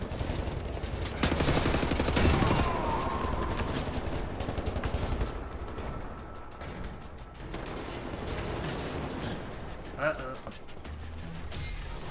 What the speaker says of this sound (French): Ça tire par là!